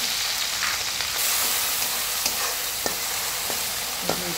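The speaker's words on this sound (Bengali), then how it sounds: "এখন আমি এখানে থেতলে রাখা আদা, রসুন, কাঁচামরিচ আর পেঁয়াজ দিয়ে দিলাম একবারে" Crushed ginger, garlic, green chili and onion hit hot oil in a wok and give a loud, dense, continuous sizzle. Sharp ticks from stirring and spattering cut through it at close range.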